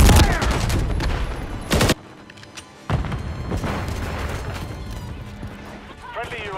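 Video game gunfire from Call of Duty MW3 on PS5: dense bursts of rifle shots crackle at the start, a sharp boom near two seconds, then scattered shots and battlefield noise continue with game voice callouts.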